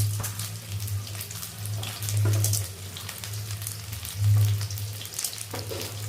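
Cumin seeds and chana dal frying in hot oil for cabbage poriyal, a steady close sizzle with crackling pops that swells a couple of times over a low, constant hum.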